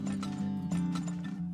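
A horse in the Turmoil video game trots off with several crisp clip-clop hoofbeats and a short whinny, played over a steady low musical drone, close and clear, with no talking.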